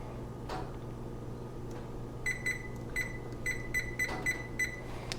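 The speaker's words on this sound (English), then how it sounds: "Set my timer for 30 minutes." Kitchen timer beeping with a few quick bright chirps in clusters over a low steady hum while soup simmers on low, faint and close.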